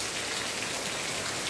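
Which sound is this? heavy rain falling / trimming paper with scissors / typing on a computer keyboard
heavy rain falling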